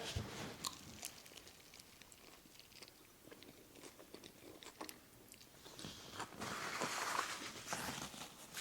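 Quiet, close crunching and chewing as someone bites into a crispy breakfast taco filled with homemade chorizo, with sharp crackly bites early and a louder chewing stretch near the end.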